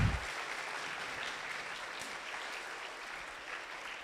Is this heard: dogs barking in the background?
no